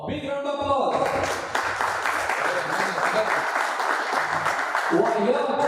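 A crowd applauds steadily at an auction day for a cricket tournament as club members are introduced, clapping filling most of the stretch with voices around its edges.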